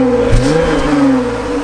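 A Jeep Wrangler JL engine rumbles through its active aero exhaust tip up close, loud and steady, with a slight rise in pitch as it revs.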